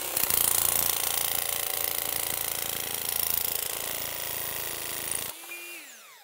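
A Makita nibbler runs steadily while cutting sheet metal, a loud continuous buzzing grind that stops abruptly near the end, leaving a brief fading whine as the motor spins down.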